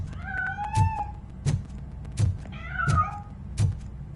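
A cat in the video game RoboCop: Rogue City lets out two drawn-out meows, close and clear, amid a steady series of heavy thumping footsteps.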